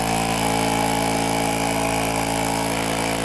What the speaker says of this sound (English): When you turn it on, it sounds like a mini air compressor.